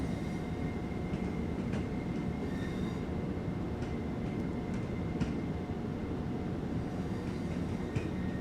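A simulated train in Train Sim World pulling slowly away from a station on the run to Brighton, a steady low rumble of wheels and motors with faint metallic squeals over it.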